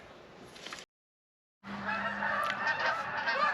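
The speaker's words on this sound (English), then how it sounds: "There's geese above me." Geese honk overhead outdoors on a Sunday morning, a steady run of calls that grows louder and fuller after a short silent gap, with no talking.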